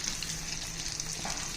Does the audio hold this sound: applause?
no